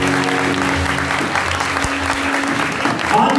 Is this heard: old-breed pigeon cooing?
no